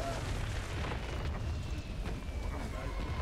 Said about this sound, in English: Artillery coming in.